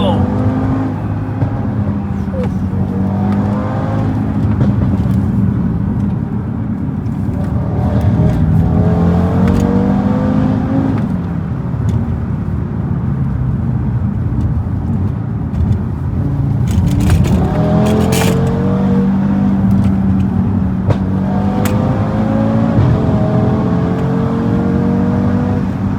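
An Audi RS3 tuned to Stage 2 accelerates hard along a wet road, its engine rising through the gears in repeated climbing pulls with brief dips at each shift, loud and close from inside the cabin.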